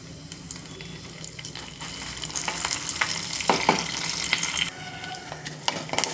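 Cumin, dried chillies and garlic cloves sizzle in hot oil for a Telugu-style tempering, giving a steady crackling fry with sharper pops and a few scrapes of stirring throughout.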